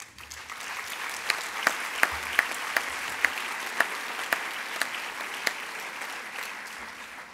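Loud applause from an audience at an official opening address, with a rhythmic run of sharper individual claps standing out above the steady clatter of the crowd.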